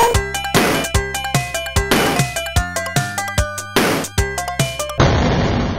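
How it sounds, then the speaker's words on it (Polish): Retro 2D video game sound effect for Pikachu landing on grass, a rapid series of harsh, clanging electronic hits and bursts, loud and chaotic, repeating several times before ending in a short noisy burst. "To jest odgłos lądowania Pikachu na trawie."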